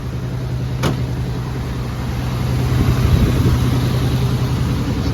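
A 1980s Chrysler Cordoba engine idles steadily and smoothly nearby after starting, a low continuous hum with a brief click near the start.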